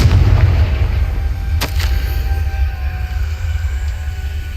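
A Confringo blast spell in Hogwarts Legacy: a loud, deep rumbling boom with a sharp crack partway through, fading into a low sustained roar.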